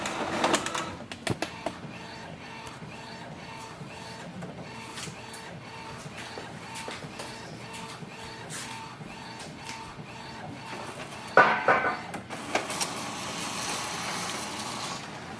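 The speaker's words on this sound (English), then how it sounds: "It will print the nozzle check sheet." An Epson WF-7820 inkjet printer runs a nozzle check page, with soft mechanical whirring, repeated clicks and carriage shuttling, then a louder burst of paper feed and motor noise near the end.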